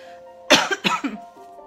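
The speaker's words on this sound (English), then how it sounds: "I'm going to have my candy so I don't start coughing." A short burst of a few harsh coughs, close and fairly loud, over a faint steady hum in the background.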